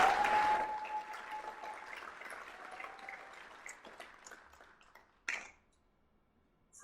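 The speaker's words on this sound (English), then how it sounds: "So, round of applause for them." A crowd at a hall of fame ceremony claps loudly at first, then the applause gradually fades and thins out to scattered claps before dying away.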